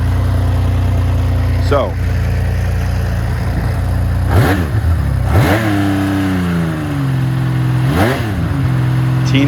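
A 1980 Honda CBX motorcycle engine idling close by, with several sharp throttle blips rising and falling in pitch over the steady idle; someone speaks briefly at the start.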